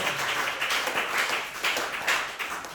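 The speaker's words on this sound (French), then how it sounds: "Applaudissez pour le Seigneur." A French-speaking church congregation clapping for the Lord during a sermon, many hands clapping in an uneven rhythmic patter, moderately loud and steady.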